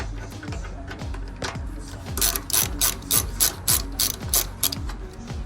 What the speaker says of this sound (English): I'm gonna have to remove this big shield that's under here, bolts that are right up in here